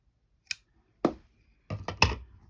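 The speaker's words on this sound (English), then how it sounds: "I might just chop that bit off with my massive pair of scissors" A few sharp snips from a large pair of scissors cutting embroidery thread, one then another, then a quick cluster of cuts, close and fairly quiet in a still room.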